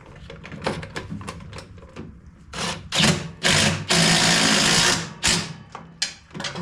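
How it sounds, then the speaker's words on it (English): Impact wrench working on a John Deere S100 riding mower during servicing, giving loud repeated bursts of rattling hammering, with the longest burst running about a second, between quieter clicks and handling noises. "Hope I can get my impact wrench back in there."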